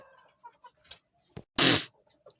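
Fancy pigeons call close by in short, scattered coos and clucks, with one louder burst of flapping or squawking near the end, otherwise quiet between calls.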